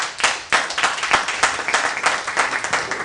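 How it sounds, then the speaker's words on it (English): Audience clapping for a speaker at a youth resilience talk, dense steady applause from many hands filling the room, loud and continuous without voices. "Another round of applause for him, please."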